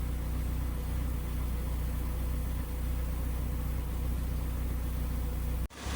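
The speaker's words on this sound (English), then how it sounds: "I got the car running" A car engine idles with a steady low hum and no speech, and it cuts out abruptly at the very end.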